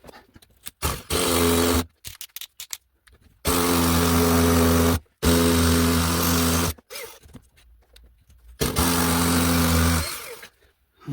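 A power drill bores holes into a wall for wall plugs, running in several loud, steady bursts of a few seconds each, separated by short quiet pauses and small handling noises.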